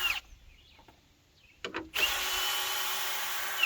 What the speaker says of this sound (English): I just put one of these little adapters in the drill.